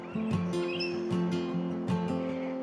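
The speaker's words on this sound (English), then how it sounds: "The grey butcher bird of the Cumberland." A grey butcherbird sings a series of clear, rich whistled notes, fairly close, in a varied melodic phrase with brief pauses.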